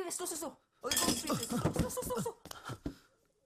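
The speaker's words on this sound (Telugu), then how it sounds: "ఒక గ్లాస్ ఉంది. దాన్ని బ్రేక్ చేస్తే మన ఇద్దరం బయటకు వెళ్ళొచ్చు." Sharp clinks and a brief shattering crash of glass ring out amid loud, excited voices in a film action scene, with a few separate impacts toward the end.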